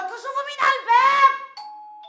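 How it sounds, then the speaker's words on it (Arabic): A doorbell chimes in a comedic TV sketch, a ringing tone that trails off into a clear sustained note near the end, heard close after and between a voice. "الجرس برن يا جماعة."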